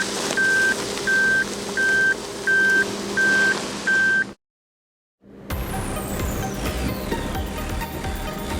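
A Suzuki Jimny Sierra in reverse gear with hill descent control on during off-road driving, giving six evenly spaced reversing beeps over a low engine hum, then a short silence before the engine and road noise return louder.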